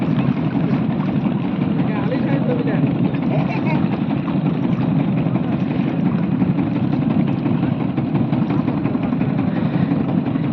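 A boat's motor drones loud and steady on Hansaigari beel in Naogaon, a continuous low engine hum with no break.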